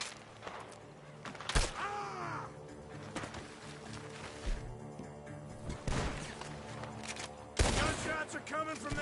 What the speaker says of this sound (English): Gunshots are coming from that barn!